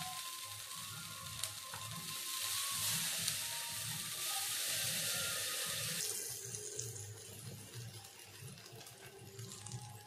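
Water sprinkled onto chitoi pitha made from ground atap rice batter in a hot covered pan sets off a loud hissing sizzle that holds for several seconds, then drops to a quieter simmer.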